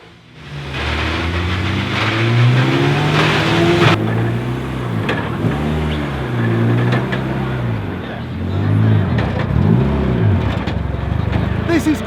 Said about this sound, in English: We've got the touring cars going around at the moment for their second practice of the weekend.